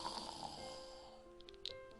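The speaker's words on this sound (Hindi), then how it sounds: "ये खर्राटों की आवाज थी।" Soft, steady snoring with a rumbling breath, ending in a couple of brief snorts, quiet and close with no talking.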